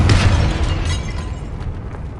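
Confringo spell in the video game Hogwarts Legacy goes off with a loud, close, deep boom at the start, its rumbling blast tail decaying over the next two seconds.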